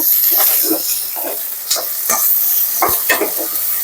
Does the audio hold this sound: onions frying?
yes